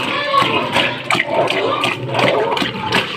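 A sow that farrowed about twelve hours earlier eats noisily at a feed trough, giving close, wet, splashing slurps and chomps in a steady irregular rhythm, with faint background noise in the pen.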